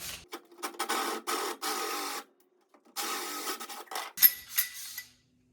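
A step-up drill bit bores a 1/4 inch hole while a cage kit is installed on a Fox body Mustang, heard as a few close, loud whirring bursts with brief silent gaps.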